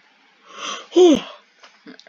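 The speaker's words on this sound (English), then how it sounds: "if you wonder about that yawn, it's me being tired." A tired person gives a single breathy yawn that rises and then falls in pitch, loud and close, during Minecraft Dragon Block C play, followed by faint speech.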